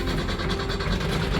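A 1975 Steyr-Puch Pinzgauer 712M ambulance's 2.5 liter air-cooled engine runs just after firing up, a loud, close, steady rumble with a throbbing low pulse throughout.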